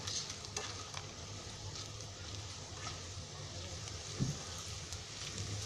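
Carrots go into a pan of browned onion for a Konkani vegetable soybean rice, and a faint, even sizzle with occasional soft stirring scrapes follows, steady throughout with no talk.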